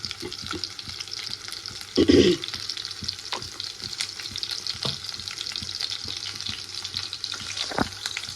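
Small shallots and mustard seeds fry in hot oil with a continuous close sizzle, a louder burst of crackling early on and occasional light stirring taps.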